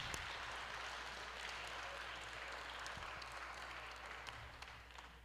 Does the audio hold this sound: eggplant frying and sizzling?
no